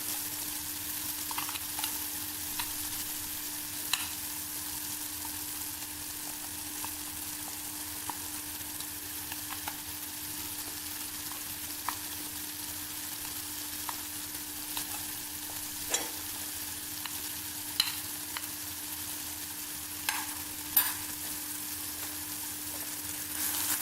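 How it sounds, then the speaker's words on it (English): Spices being stirred into thick tomato puree in oil for a paneer capsicum dish, a soft steady frying sizzle with faint scraping clicks of the stirring spoon scattered throughout, quiet and continuous with no talk. "Mix well until the spices are dissolved."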